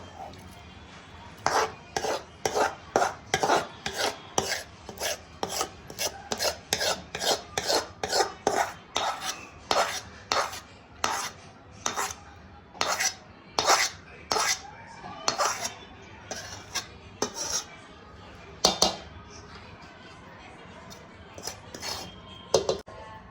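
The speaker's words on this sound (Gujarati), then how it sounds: "હવે આપણે ગોળનો પાયો મિક્સ કરી લઈશું" A spoon scraping and stirring melted jaggery syrup in ghee in a metal pan, with repeated sharp clinks and rasping strokes in an uneven rhythm, close and clear.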